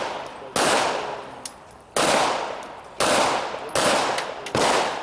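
Pistol gunfire at an IDPA match at Mecklenburg Wildlife Club, heard as four loud, sharp reports spaced about a second apart, each with a decaying ring, plus a few faint distant pops between them.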